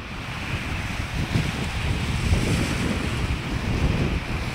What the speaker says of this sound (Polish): A tam zamglone morze, zamglony Bałtyk.